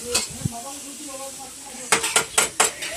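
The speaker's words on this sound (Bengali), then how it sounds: "ঢেঁড়স ভাজা, পটল ভাজা, এখানে আলু ভাজা হচ্ছে।" Potatoes, okra and pointed gourd frying in a pan, a soft sizzle under a series of sharp metal clinks and scrapes of a utensil against the pan, clustered near the end.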